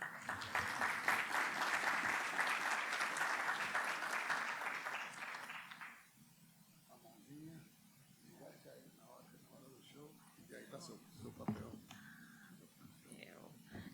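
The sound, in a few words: audience applause welcoming speaker Fernanda Delgado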